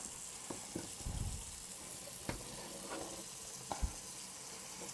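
Water running and splashing as white corn is rinsed in a sink for Oneida corn soup, a steady broadband wash with a few brief knocks and splashes, fairly close.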